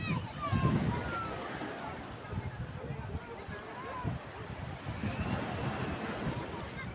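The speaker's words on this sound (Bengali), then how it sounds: "এই যে সাগরের উত্তালটা আসলে দেখুন, পানির শব্দটা আপনারা ভালো করে লক্ষ্য করুন" Sea waves surge and crash at night along the Saudi Arabian coast, a continuous rushing roar swelling and easing, heavy with wind buffeting the microphone.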